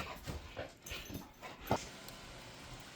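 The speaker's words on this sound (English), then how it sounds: "Puppies." Puppies whimpering and yipping in short, soft bursts, a few scattered cries with one sharper yelp near the end, heard close by over a quiet background.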